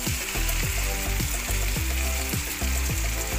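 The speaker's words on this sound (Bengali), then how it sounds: "এবার আদা রসুনের পেস্টটা আমি দিয়ে দেবো" Ginger garlic paste sizzles in hot oil with softened tomatoes for an egg curry. A steady close frying hiss runs under regular scraping strokes of stirring, with no voices.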